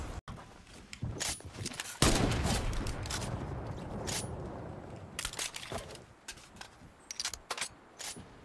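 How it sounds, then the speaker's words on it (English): Rapid gunfire bursts in a competitive first-person shooter match crack out in quick clusters, with a louder, sustained barrage midway followed by scattered sharp shots, all without talk. "I just shot at an invisible guy!"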